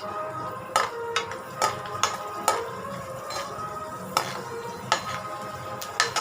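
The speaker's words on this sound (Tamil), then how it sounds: "நல்லா ஃப்ரை பண்ணிக்கலாம்." Pumpkin halwa frying in a pan while being stirred, with a soft steady sizzle beneath and a series of sharp metallic clinks and scrapes of a spoon against the pan, repeating irregularly throughout.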